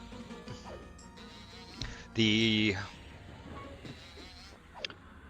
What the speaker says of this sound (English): You fight the first form bee, this is the second form bee.